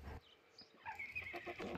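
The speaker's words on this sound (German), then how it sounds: "Bringe das Pferd zurück in den Stall" Horse neighing in the farming simulator game Farmer's Life, a clear whinny with some clip-clop of hooves, close and loud, without speech.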